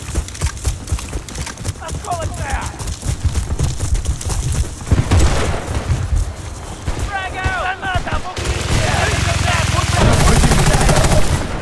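Rapid bursts of Battlefield: Bad Company 2 gunfire crackle over a noisy battle mix in Conquest mode, with voices shouting at times and a dense, continuous background.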